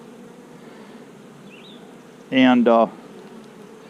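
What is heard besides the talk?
honeybees buzzing around an open hive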